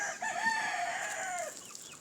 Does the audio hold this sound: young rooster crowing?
yes